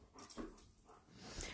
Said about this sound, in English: Our big puppy is very zealous.